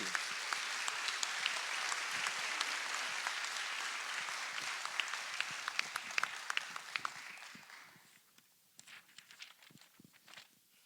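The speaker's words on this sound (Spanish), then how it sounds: "Por favor, un aplauso para nuestros invitados de este día." Audience applause for invited guests at a public university forum in Michoacán, a dense sustained clapping from a large crowd that holds steady for about seven seconds, then thins into scattered individual claps before fading out.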